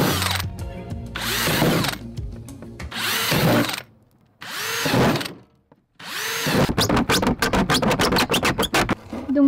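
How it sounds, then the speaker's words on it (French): A hand saw cuts a hole through the wall of a polystyrene box, with rough scraping strokes in long bursts, then a quick run of short rapid strokes, close up with no talking. "Toi tu peux essayer avec la scie."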